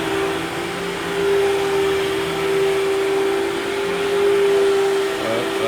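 A carpet vacuum runs steadily, pulling dry soil from the carpet before pre-treatment, with a constant loud motor whine and airflow hiss that holds throughout without pauses.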